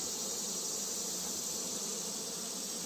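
Honey bees hum in an open hive with nectar in the brood nest, a faint, even, unbroken drone that holds steady throughout with no voices.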